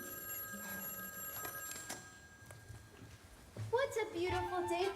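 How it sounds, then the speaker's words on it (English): A telephone bell rings in a stage performance of a musical, a brief steady ringing tone behind spoken lines. "I don't want this number ruining by a ringing telephone."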